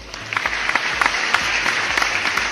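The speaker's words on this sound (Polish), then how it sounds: "normalnie oklaski się należą" Steady applause sound effect of many hands clapping, dense and crackling for a couple of seconds, heard alone in a GTA Online gameplay setting.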